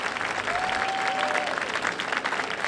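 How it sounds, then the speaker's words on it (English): A crowd at an Earth Day breakfast press conference applauds Mayor Parker of Houston, a full, even roar of clapping, with a brief faint whistle-like tone near the start. "Huge round of applause for Mayor Parker"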